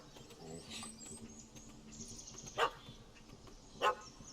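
Dog barking inside The Witcher 3 game world, two sharp barks at a moderate distance, spaced about a second apart, over quiet ambient game sound and faint birdsong.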